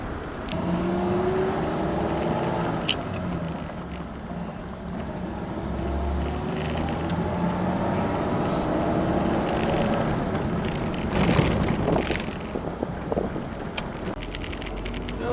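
A 1938 Chrysler Royal cruises in overdrive, its steady engine drone and road and wind noise holding close and loud throughout, with a brief surge near the end.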